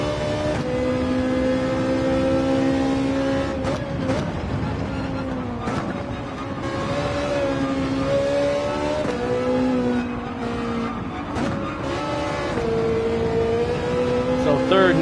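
Race car engine at Spa in Gran Turismo 7, a loud steady high-revving drone with pitch shifts as gears change and the throttle lifts, heard close and continuous.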